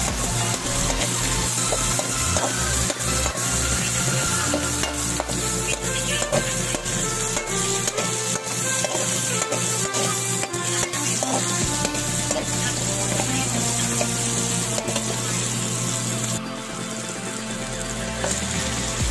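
Onion and garlic sizzle with meat in a hot pan, a steady loud frying hiss throughout with scraping and stirring of a utensil against the pan, continuous and close.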